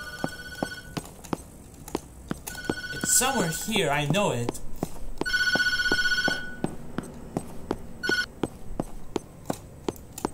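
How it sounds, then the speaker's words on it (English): A telephone rings repeatedly in the horror video game Tattletail, each ring a sharp electronic burst over a steady ticking rhythm, while someone talks in between. "I am not answering that god dang phone."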